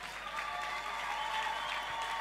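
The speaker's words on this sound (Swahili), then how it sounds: "Situpigie Bwana makofi." Members of a church congregation clap for the Lord in sustained, steady applause from a crowd, with a faint tonal hum running beneath the clapping.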